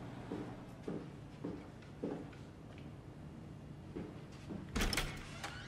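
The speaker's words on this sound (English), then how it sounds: "Oh, this door does open." A door opens in the sci-fi horror game SOMA, with a sudden loud mechanical burst near the end following several softer thuds and footsteps.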